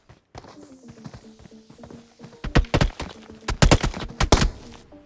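P90 bursts ring out in a BGMI PUBG Mobile match, arriving as sharp rapid cracks that bunch into louder volleys near the end over quieter rhythmic game noises.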